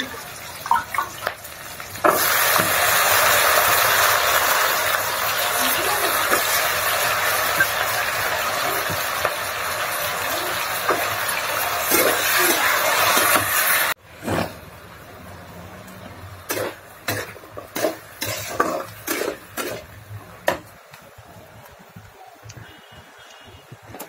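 Potatoes hit hot oil with onion, chili and garlic and fry in a loud, steady sizzle. After a sudden drop the sizzle turns quieter, broken by scattered clinks and stirring sounds.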